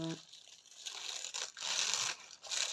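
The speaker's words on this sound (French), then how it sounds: "j'ai arraché le papier de soie." Papery crackling and ripping in a few bursts, fairly close, with short pauses between; sounds like tissue paper being torn and crumpled.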